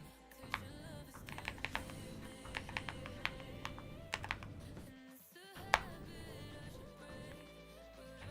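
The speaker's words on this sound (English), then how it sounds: "Those keys sound great." Fast, uneven typing on a computer keyboard, close and fairly quiet, with bursts of clicks, a few sharper key strikes and a short pause midway.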